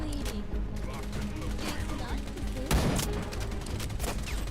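Gunfire in the game Wild Assault plays as steady dense background bursts throughout, with one louder impact near the middle, all under a busy game soundtrack.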